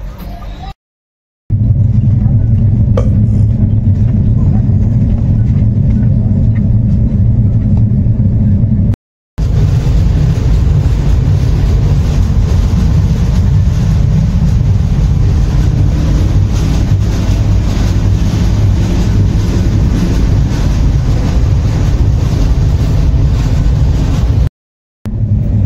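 The Howrah–Ujjain Shipra Express runs with a loud, continuous low rumble and rattle, broken only by a couple of brief silent gaps.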